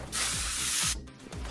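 A spray can in Car Mechanic Simulator 2021 hisses in one steady burst of under a second, loud and close, then cuts off, with a low game hum underneath.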